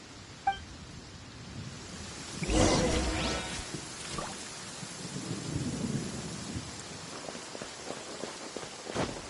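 Thunder in the video game Genshin Impact: a sharp crack, then a loud rolling rumble that slowly fades, followed by faint patter and light steps, with no talk.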